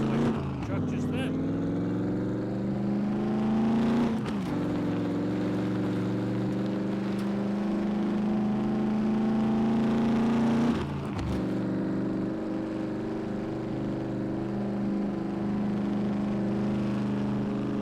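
Truck engine driving in the survival video game SCUM, a continuous mid-pitched drone with shifting revs and a couple of brief gear-change dips, heard under someone talking.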